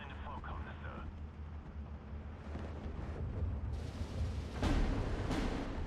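Mortar and artillery fire rumbles in the Steel Division 2 strategy game, with deep distant booms and a few sharper blasts rising over a constant low battlefield drone.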